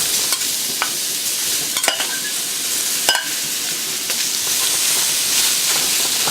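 Beef steak, bamboo shoots and Chinese celery stir-fry in hot oil, a loud hissing sizzle broken by repeated metallic clanks and scrapes of the spatula against the wok, close.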